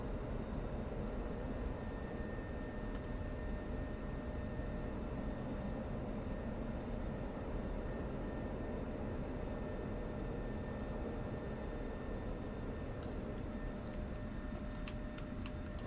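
A jet aircraft aero braking on landing in the DCS World flight simulator gives a steady, loud engine and airflow roar with a constant whine, unbroken throughout, with a few faint clicks near the end.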